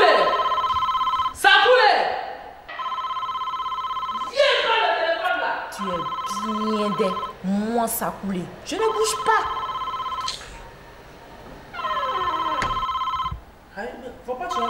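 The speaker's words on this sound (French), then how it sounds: "Le téléphone sonne." A telephone rings repeatedly in loud, steady electronic bursts, several rings spaced across the stretch, with people talking over and between them in an indoor scene.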